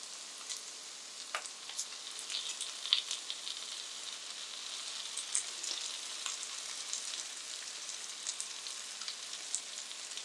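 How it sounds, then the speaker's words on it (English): Tomatoes dropped into a pan of frying eggplant give a steady, fairly quiet sizzle with scattered crackles and pops, heard alone without voices. "Now it's time to add tomatoes. I'll add tomatoes now."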